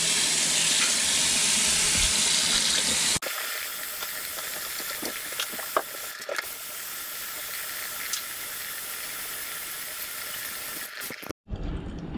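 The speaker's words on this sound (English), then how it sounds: "I am going to rinse it one last time to make sure that we are completely rinsed out and clean." Water from a hose sprays over a K&N air filter during a rinse, a steady loud hissing rush that changes tone partway through, with brief splashes and no talking.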